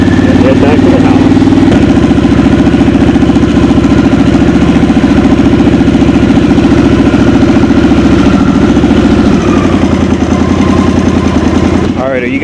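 A 2022 Harley-Davidson Sportster S motorcycle engine runs loud and close under gentle throttle, a steady, throbbing mid-pitched rumble that holds for the whole stretch before briefly dipping near the end.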